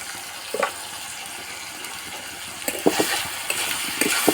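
Meat sizzling in a pan without spices, a steady close frying hiss with occasional louder crackles and pops, no voices over it.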